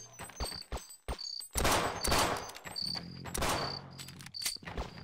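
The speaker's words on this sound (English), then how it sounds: "They've learned how to use guns." Zombie cops in the video game They Hunger fire guns in sharp, loud bursts, single cracks and clustered shots spaced irregularly, with a high insect-like chirp and low hum running between them.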